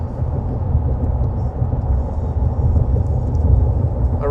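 Steady low rumble of road noise inside a 2025 GWM Cannon Alpha Ultra PHEV pickup cruising along a road, a continuous broadband drone with no voices over it.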